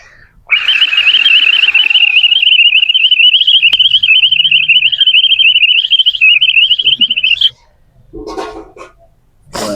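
A person whistles an imitation of morning and evening birds chirping, a loud sustained warbling trill held steadily for several seconds before stopping abruptly, followed by a short burst of other sound.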